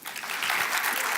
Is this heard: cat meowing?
no